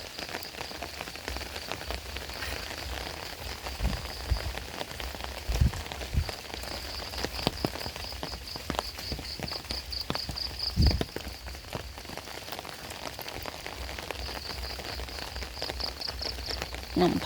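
Heavy overnight rain pours over flooded rice fields, a dense, steady patter of drops on surfaces with occasional louder splashes and knocks throughout.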